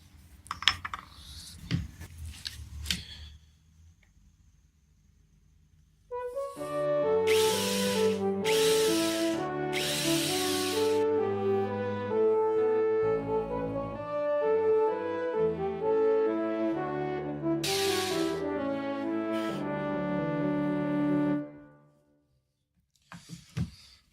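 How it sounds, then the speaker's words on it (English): A small Bosch Forstner bit in a power drill cuts a shallow recess into a guitar body, giving a steady whirring grind for about fifteen seconds after some brief handling noises, with short louder bursts as the bit bites and no talk. "So I'm going to recess it very slightly with this fairly small Forstner bit."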